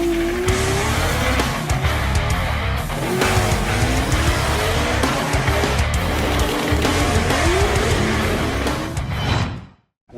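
A 2,000-pound 1988 Lada with a 2JZ engine swap and manual transmission drives hard, its engine roaring loudly and steadily with rising revs and squealing tires, until the sound cuts off abruptly near the end.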